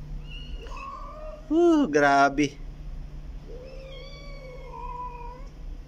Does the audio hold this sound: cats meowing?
yes